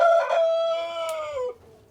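A rooster on a poultry farm gives a single loud crow that stretches and falls off over about a second and a half, up close and with nothing else heard.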